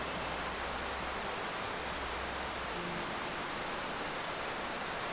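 A waterfall in a VR fishing game rushes steadily, a constant hiss of falling water that stays even and unbroken throughout, with no voices over it.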